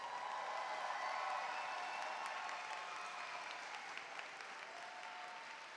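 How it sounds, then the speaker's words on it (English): Audience applause at a 2026 STEM high school commencement ceremony for the graduating class, a dense, steady wash of clapping from a large crowd that fills the whole stretch and fades only slightly toward the end. "Let's give them another round of applause."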